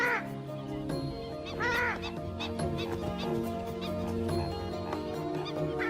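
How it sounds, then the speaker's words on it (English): Loud, harsh purple swamphen calls repeat in squawking bursts over a background of other birds and a low hum. "the purple swamp hen, also called the sultana bird, famed for its very loud, explosive call"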